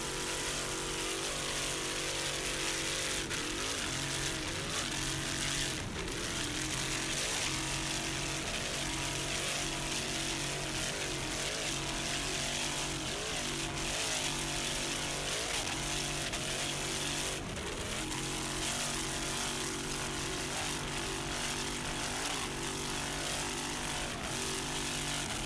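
Offshore powerboats racing at the 1997 Suncoast Offshore Grand Prix, including 30-foot Factory 2 class boats, produce a continuous loud, droning engine roar whose pitch wavers, heard on its own throughout.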